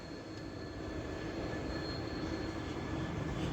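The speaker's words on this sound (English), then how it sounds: "But obviously it's a light locomotive." A light locomotive passing through Stafford station on the West Coast Main Line, a steady rolling rumble of wheels on rails with faint squealing, growing slightly louder as it goes by.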